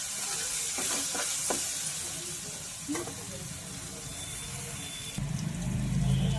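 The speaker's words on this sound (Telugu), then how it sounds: "ఇప్పుడు చేప ముక్కలు వేసేసుకుందామండి" Pieces of vanjaram fish dropped into a pan of spiced masala and garam masala, giving a soft hissing sizzle with some stirring clatter, which swells into a louder, denser sizzle near the end; no one speaks.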